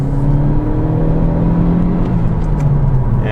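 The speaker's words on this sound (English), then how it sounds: "those were pretty hard revs I was giving the car" A 2017 Toyota C-HR accelerates hard from second gear, its engine note a steady, loud, sustained drone with the revs held high and rising tonal strain throughout, no voices over it.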